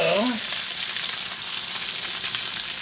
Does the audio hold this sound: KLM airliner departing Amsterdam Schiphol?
no